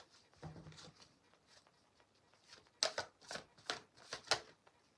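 Tarot cards are shuffled and handled while clarifier cards are drawn, giving soft riffling and a few sharper, louder flicks and snaps near the end, with no talking.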